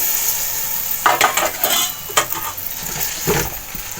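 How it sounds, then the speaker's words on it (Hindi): One kilo of beef fries in a pan with a loud continuous sizzle, while a utensil scrapes and clatters in repeated stirring strokes close by. "अब इसको मैं थोड़ी देर भून लूंगी, इसके कलर चेंज होना तक।"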